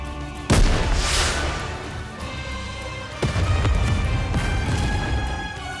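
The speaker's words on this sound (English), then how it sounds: "a shell flies from the rocket launcher. And a resounding explosion causes the entire snowfield to be blanketed in thick plumes of white smoke" A rocket launcher shell explodes in the snowfield of the video game Nikke: Goddess of Victory, a sharp heavy boom followed by a second blast a few seconds later, each trailing into a loud rolling rumble.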